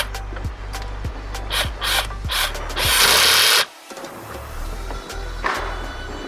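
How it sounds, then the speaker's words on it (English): Mechanical clicking and rubbing as a car air filter is clamped down during a cold-air intake install on a 2020 Toyota Supra, a series of sharp ratchet-like clicks followed by a longer scraping burst, close and fairly loud with no talk. "And then we will clamp the air filter down."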